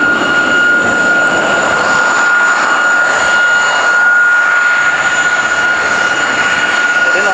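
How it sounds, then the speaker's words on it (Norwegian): A single-seat de Havilland Vampire jet flies past at an airshow, a loud, steady jet roar with a whining tone that holds throughout, with no voices. "Enseters Vampiren, den har en topphastighet på 880 km/t."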